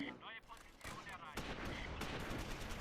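Artillery strike in the Close Combat video game: sharp, low-level blasts with rumbling gunfire bursts close together, heard faintly with a voice in the background.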